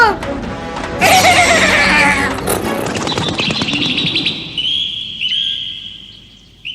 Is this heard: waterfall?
no